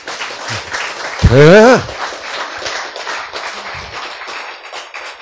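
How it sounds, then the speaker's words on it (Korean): Audience applause at a Korean lecture on healthy eating, a broad steady patter of many hands clapping under a speaker's voice that continues talking over it. "박수!"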